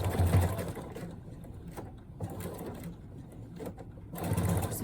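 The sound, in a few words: sewing machine stitching bias binding onto a pouch pocket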